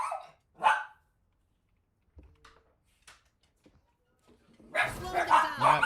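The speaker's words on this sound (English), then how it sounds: "Sorry for my dog." A dog barks at home, two loud close barks, then quieter yips and whimpers, ending in a louder burst of barking.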